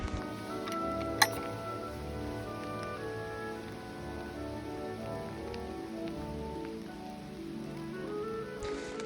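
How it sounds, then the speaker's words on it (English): Steady rain falling outdoors over dahlia fields, a dense even patter of drops on leaves and surfaces with occasional sharper drips, continuous and moderately close. "So it's a little bit rainy outside"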